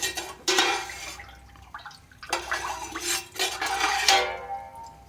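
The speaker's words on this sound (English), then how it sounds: "we're going to give that a good stir" Stirring a mordant bath for natural dyeing, with a few broad sloshing, scraping sweeps of liquid in a container, close and moderately loud with quiet pauses between strokes.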